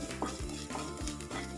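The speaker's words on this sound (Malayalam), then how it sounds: "നല്ലോണം ഇളക്കി കൊടുക്കുക." Shallots and chilies for a Kerala mutton pepper roast are stirred and fried in a pan, with a steady close sizzle and repeated scraping strokes at a regular rhythm.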